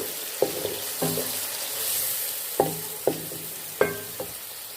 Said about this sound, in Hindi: इसमें अब हम टमाटर डालेंगे और उसको अच्छे से मिला लेंगे।